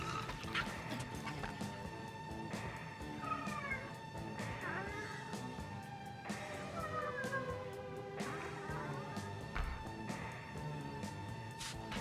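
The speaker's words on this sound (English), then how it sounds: "Quiet this cacophonous caterwauling!" A cat caterwauls in a Marvel's Guardians of the Galaxy PC game cinematic: drawn-out wavering yowls and meows rise repeatedly over steady background music.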